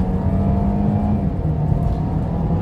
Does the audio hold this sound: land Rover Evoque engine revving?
yes